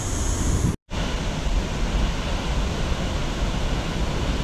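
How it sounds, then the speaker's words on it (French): Loud, steady broadband roar of a waterfall heard up close beside a stream, a dense rushing wash of water that cuts out for an instant and then resumes at full strength. "Alors on entend la cascade là, on s'en approche là."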